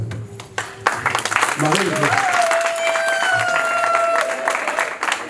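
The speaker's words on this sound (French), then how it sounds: "nous allons acclamer Jésus pour cela" A wedding congregation in a Congolese church service in Argenteuil breaks into sustained applause and cheering to acclaim Jesus, loud and dense, with voices ringing out and a speaker heard before it.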